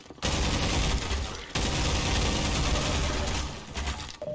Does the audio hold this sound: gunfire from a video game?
yes